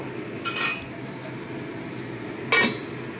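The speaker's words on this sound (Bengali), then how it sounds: "দেখো, একবার আমি ঢাকনাটা খুলে চেক করি।" A metal lid on a cooking pot of simmering banana flower curry is lifted, giving two sharp metallic clinks a couple of seconds apart over a low kitchen background.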